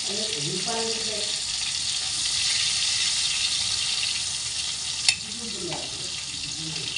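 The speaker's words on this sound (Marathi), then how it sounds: "हे बघा अशा प्रकारे मासे फ्राय करून घेतले." Pomfret fish fry in a pan with a steady bright sizzle throughout, while a voice speaks briefly at the start and again near the end.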